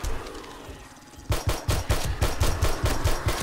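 An automated turret fires in 7 Days to Die, a loud steady stream of rapid shots following a short stretch of quieter rumble, the bursts evenly paced and close.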